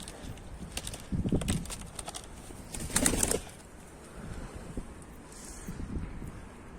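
A flock of Mardin pigeons flies outdoors, with a few brief bursts of flapping wings amid steady wind buffeting the microphone and faint background noise.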